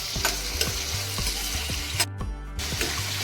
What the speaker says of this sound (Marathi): आणि एक टोमॅटो घेतलेला आहे हे आपल्याला चांगलं परतवून घ्यायचं